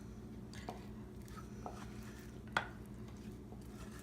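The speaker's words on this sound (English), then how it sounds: "you have to keep on stirring it so that it doesn't become lumpy" Rice paste for phirni stirred in a pot, faint and close, with a few soft scraping strokes of the spoon over a low, quiet simmer and no talking.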